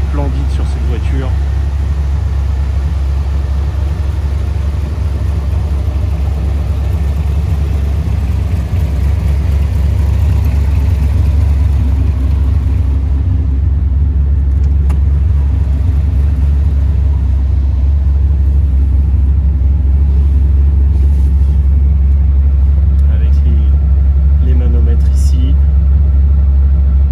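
An AC Cobra MK IV Autokraft sports car engine rumbles steadily at a deep idle, heavy low-end throb held constant throughout with no voices.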